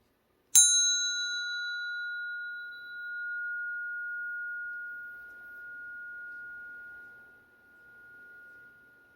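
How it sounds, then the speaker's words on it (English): A single bell is struck once to clear energy before a rune reading, a bright strike followed by a long, pure ringing tone that fades slowly over several seconds in a quiet room. "So let's do this bell."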